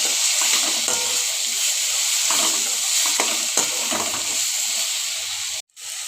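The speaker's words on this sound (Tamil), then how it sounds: "பாருங்க நல்லா வதங்கிட்டுருக்கு." Eggplant sautéing in oil for kathirikai chutney, a steady close sizzle with soft stirring scrapes at irregular intervals and a brief clunk near the end, no voices.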